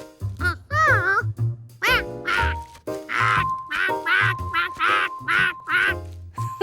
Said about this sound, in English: You make an excellent duckling, George.